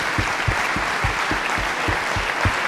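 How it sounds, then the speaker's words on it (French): An audience at a French lecture event applauds a winning group on stage, a steady close wash of many hands clapping throughout with no talk over it. "on peut les applaudir à nouveau."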